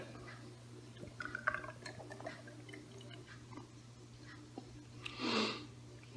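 Murphy's Irish Stout poured into a tulip glass, a faint liquid trickle with a brief louder gurgling splash near the end over a low steady hum.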